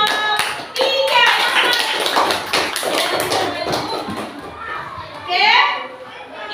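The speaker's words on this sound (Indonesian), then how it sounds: "Beri tepuk tangan untuk kelompok 3." Schoolchildren in a classroom clap for a presenting student group, the patter of hands mixed with a steady hubbub of children's voices, near and fairly loud.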